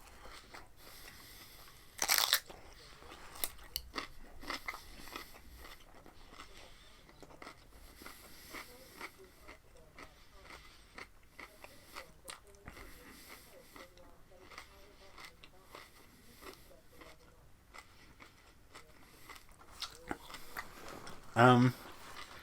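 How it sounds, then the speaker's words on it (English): Raw cucumber is bitten and chewed up close at a raw vegetable meal, with a sharp crunchy bite near the start and another near the end, quiet chewing and small clicks between them. "Take a bite of my cucumber, I guess."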